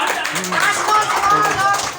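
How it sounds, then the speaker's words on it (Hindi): Classroom students clapping together on a teacher's cue during a quiz-show style lesson, a dense burst of hand claps lasting a couple of seconds with voices and chatter mixed in. "चलो तालियां बजाओ।"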